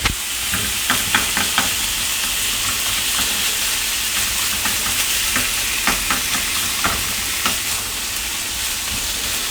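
Minced meat sizzles steadily in a hot pan on the stove while a utensil scrapes and stirs it in repeated strokes, loud and close with a constant frying hiss.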